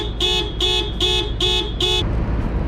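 A car alarm blaring on a New York street, five evenly spaced loud electronic honks in quick succession, close by over a low traffic hum, then cutting off.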